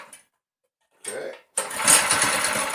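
Yerf Dog go-kart engine on its pull start: short bursts of sputtering, then the small engine catches and runs with a loud, fast buzzing idle close by.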